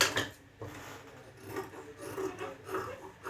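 Scissors snip through folded blouse fabric in several soft, raspy cuts at an even pace, close and fairly quiet, with no talking.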